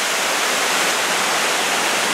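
Steady, full rush of a waterfall at Cataract Falls near Fairfax, California, heard close and loud with no break, a dense wash of falling water and no voices.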